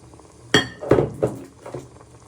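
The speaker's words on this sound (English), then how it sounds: "Now you want to give that a little bit of a stir." A spoon stirring chicken and mushroom stew in a pan knocks against the metal four times in uneven succession, each a close, bright clink that fades quickly.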